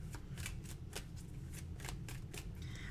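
Tarot cards being shuffled by hand, a rapid series of crisp riffling bursts repeating steadily over a low background hum, close and clear with no talking.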